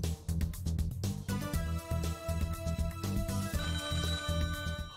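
A telephone ringtone signals an incoming call during a Polish call-in show, repeating melodic electronic tones in a quick rhythmic pattern, loud and clear with no talk over it.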